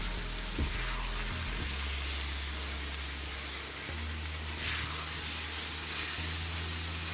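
Meat and tomato puree stirred while frying on a hot tawa, a steady close sizzle with soft scraping and stirring noises running throughout, no voices.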